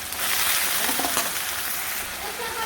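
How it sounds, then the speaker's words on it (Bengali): Fish curry cooking in a pan gives off a steady, dense sizzle of frying. It carries on with an even, close hiss throughout, with no talking. "তারপরে হচ্ছে মাছের তরকারি রান্না করে নিই"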